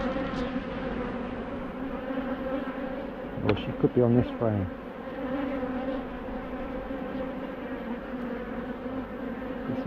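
Honeybees buzz steadily on a hive frame, a close continuous drone throughout, with a brief spoken remark near the middle over the hum.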